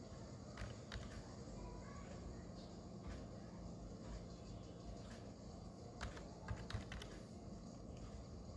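Typing on a computer keyboard while entering bid rates for a vehicle hiring tender, faint scattered key clicks in short bursts over a steady low room hum, with no one talking.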